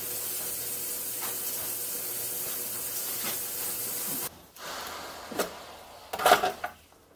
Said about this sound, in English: I'm going to put it in an ultrasonic cleaner and clean it out as best as I can